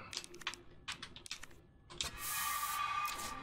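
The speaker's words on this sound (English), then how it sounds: "first aid spray it." In the survival horror game Resident Evil 2 Remake, a few quick item-menu clicks lead into a first aid spray, a sustained hissing burst that continues to the end.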